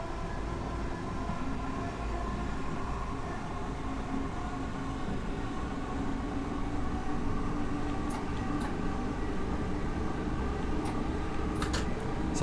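A train in Train Sim World 2 on the North Kent Line, Gravesend to Rainham, rumbles along with a steady engine drone and track noise, with a few faint clicks near the end and no talking.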